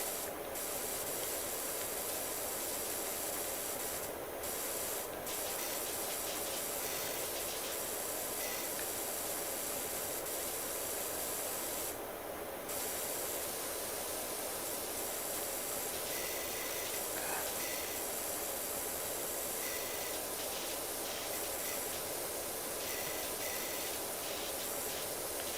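Steady high-pressure spray hiss from a power washer cleaning a toy car in the PowerWash Simulator video game, continuous and fairly loud with brief bursts and dips, no talking.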